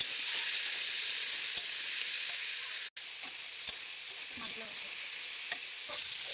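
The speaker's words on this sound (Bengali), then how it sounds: "এবার মাছগুলো লাল করে একটু ভেজে নিলাম" Pieces of kuchia eel fish sizzle steadily in hot oil in a home kitchen pan, a dense, even hiss broken by a few light stirring clicks and one brief dropout, with no talk.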